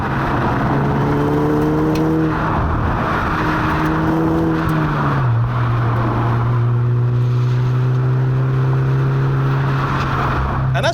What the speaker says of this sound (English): The engine is nice and responsive, the turbo lag never really gets in the way